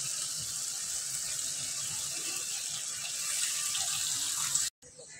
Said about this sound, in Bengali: আমি এবার এই নারকেলের দুধটা এর ভিতরে দিয়ে দেব